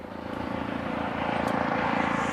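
A helicopter hovers above the Artemis II launch site motorcade, its engine and rotor giving a steady, loud broadband drone that builds slightly and holds throughout, with no voices.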